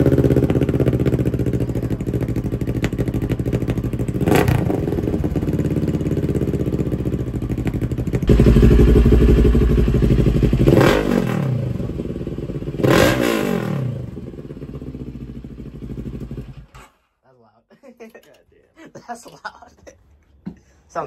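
A CFMoto CL-X 700 motorcycle fitted with a loud fire-torch catalytic exhaust idles, then revs hard several times with a loud, rumbling exhaust before cutting off abruptly, leaving near silence and faint noises.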